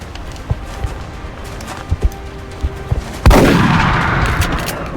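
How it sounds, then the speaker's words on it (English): A shotgun fired at a chrysalid in the video game XCOM Enemy Within: soft scattered footsteps and ticks, then one loud, close blast at about three seconds that rolls off in a long, fading echo. "A shotgunner is obviously going to just shoot the chrysalid"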